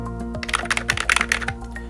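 Keys on an Atari XE computer keyboard clatter in a burst of quick, irregular clicks, close and fairly loud over a low steady hum.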